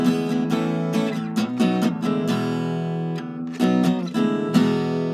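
Acoustic guitar strummed steadily in a song's intro pattern, chords ringing with brief pauses and accented strokes, played close and alone without voices.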